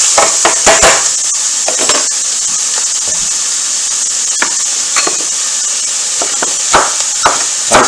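Knife slicing vegetables on a cutting board, with repeated sharp chopping strikes in uneven bursts over a steady sizzling hiss from a nearby pan as turkey curry cooks.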